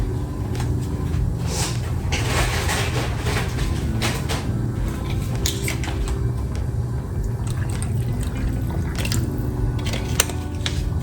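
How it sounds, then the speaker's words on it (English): Water runs into a pot of short ribs being cooked down for gravy, a steady wash of liquid with scattered clinks and knocks of the pot and lid over a constant low rumble. "I think I'm gonna put some more water in here"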